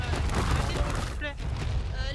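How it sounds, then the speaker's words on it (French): Gunfire in the online survival game Ark, heard as a dense burst of booming shots mixed with loud voices talking over one another. "Oh, il y a des coups de feu, il y a des coups de feu."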